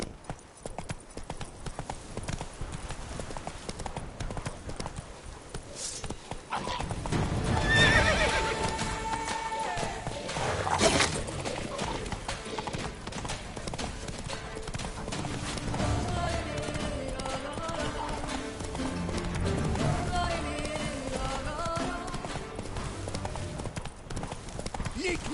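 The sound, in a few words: horse Roach galloping and neighing in The Witcher 3 video game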